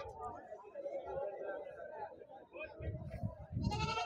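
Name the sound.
goats at a livestock market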